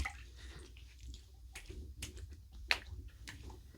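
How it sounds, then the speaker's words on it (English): An alum block is rinsed under running water during a shave routine, a faint, soft splashing and dripping with a few sharp wet clicks, close by and with no talking. "I'm going to rinse this Allen block off"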